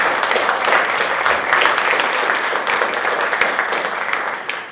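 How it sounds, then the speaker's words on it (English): An audience at the Miss Phenix City and Outstanding Teen 2022 pageant gives a sustained, loud round of applause, the clapping dense and even, with occasional sharper claps standing out. "Let's give them all one big round of applause."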